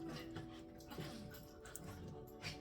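Several dogs whimpering and yipping restlessly indoors, faint and intermittent under a low background hum, with occasional brief sharper cries.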